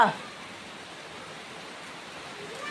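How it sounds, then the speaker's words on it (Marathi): Unseasonal rain falls steadily in Konkan, an even wash of soft hiss with no distinct drops standing out, moderately loud and unbroken throughout. "फायनली पाऊस आला आहे"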